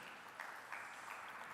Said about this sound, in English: So everyone give a huge round of applause for Diego Mazo.